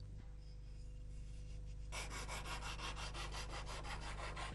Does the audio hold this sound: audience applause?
no